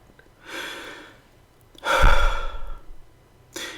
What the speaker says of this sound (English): Take a breath and breathe it out.